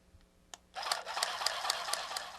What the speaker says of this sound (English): we're going to do some stitching on this brown to help tie it all together. And I'm going to stitch right on my photo